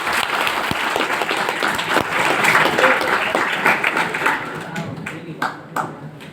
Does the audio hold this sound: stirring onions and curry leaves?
no